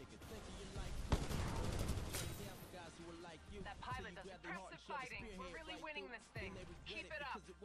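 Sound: gunfire in the video game Titanfall 2

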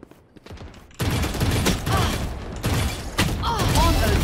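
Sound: gunfire in a shooter video game

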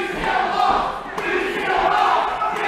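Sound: wrestling crowd jeering at the losing wrestler

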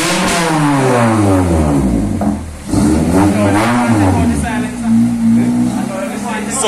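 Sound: car engine revving on a dyno

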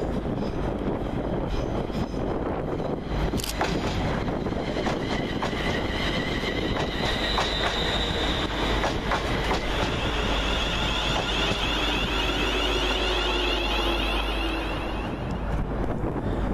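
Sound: West Midlands Railway class 350 train passing through Aston station

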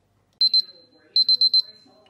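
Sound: kitchen timer beeping as it is set

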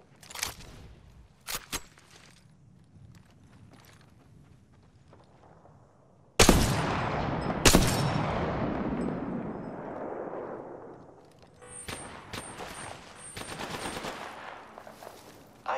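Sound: gunfire in a video game shooter

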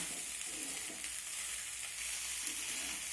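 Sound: noodles being stirred and fried on high flame

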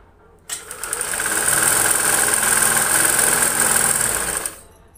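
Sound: motorized machine running

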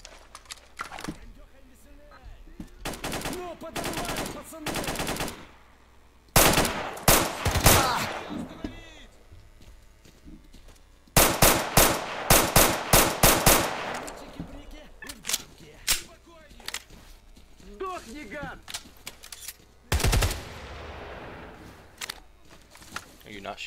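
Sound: gunfire in S.T.A.L.K.E.R. Call of Chernobyl video game

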